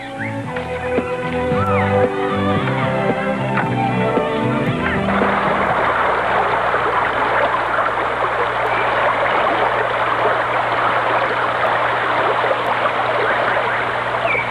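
A brook flows in a continuous broadband rush and gurgle, loud and close. It starts under a few seconds of tonal music, then runs alone for most of the clip.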